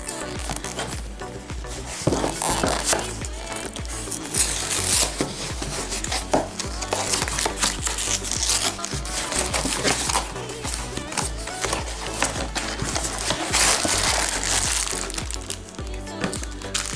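A box of Hostess Twinkies being opened, with a long run of crinkling, tearing and rustling cardboard and wrapper noises, close and fairly busy, broken by sharper cracks.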